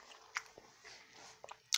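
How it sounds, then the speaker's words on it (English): Someone chews food with an open mouth, faint wet smacking and crunchy bites at irregular intervals against a quiet background. "Can you please stop chewing your mouth open?"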